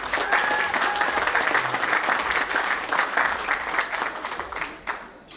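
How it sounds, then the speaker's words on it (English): Sustained, dense applause from a crowd at a baseball scouts' dinner, greeting award winner Charlie Hickey, a college baseball coach. The clapping is loud and continuous for several seconds, then thins and fades near the end. "Applause, please, for Charlie."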